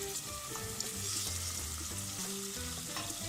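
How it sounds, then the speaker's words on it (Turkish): Tomato paste fries in a pan for a dumpling soup, giving a steady, close sizzle and crackle throughout, with no talking. "salça kavruldu"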